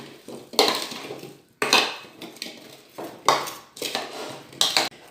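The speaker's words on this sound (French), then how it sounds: "Et ensuite, vous mélangez le tout." Utensil scraping and clinking against a dish while mixing fish with turmeric and black pepper, in four or five close, brisk bursts separated by short pauses, with no talk.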